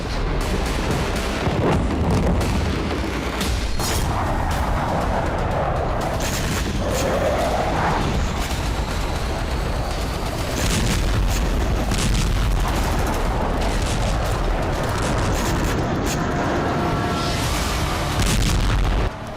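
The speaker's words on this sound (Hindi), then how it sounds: "जोरदार धमाके के साथ आसमान में तेजी से उठता बारूद से सने धुएं और आग" Large blasts in Russia's Rostov province boom repeatedly, heavy thuds and rumbling crackles following one another through a loud, continuous roar.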